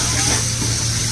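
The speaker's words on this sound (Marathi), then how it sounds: "आणि आता तो जरा घट्ट झालाय म्हणून त्याच्यामध्ये थोडं पाणी टाकायचं आहे।" Water poured into a thickening homemade egg curry masala, a steady close wash of liquid with no talk, lasting about a second.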